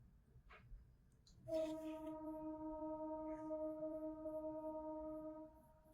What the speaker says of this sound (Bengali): ট্রেন যাচ্ছে